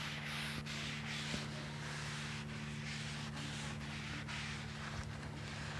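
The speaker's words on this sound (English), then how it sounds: "take our paper towels and we're gonna wipe that all over the griddle" Paper towels wipe oil across a rusty Camp Chef griddle being restored, making a steady, close-up rubbing and scrubbing noise in repeated strokes.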